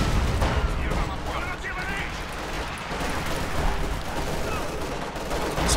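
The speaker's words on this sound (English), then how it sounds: "Suppressive fire." Dense, continuous gunfire from Company of Heroes 2 suppressive fire, a steady roar of overlapping shots and battle noise held at a loud, even level with a voice talking over it.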